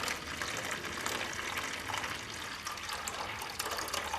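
Water pours steadily from a flushed engine cooling system, a constant faint splashing gush like a running tap, unbroken and without talk.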